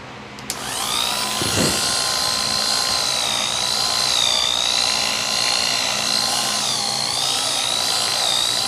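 Electric clippers buzzing under a horse's chin as the hairs are trimmed, a loud, steady, close motor whine that starts abruptly and wavers slightly in pitch, with no talk.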